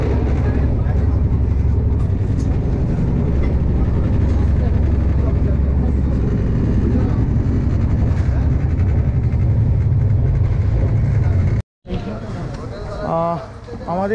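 A passenger train bound for Jhargram runs with a loud, steady, continuous rumble for about twelve seconds while people talk over it, then the sound cuts off abruptly.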